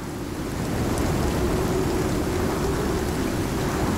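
Steady, dense rain hiss in the video game Icarus with a low rumbling undertone, continuous and even throughout, no voices.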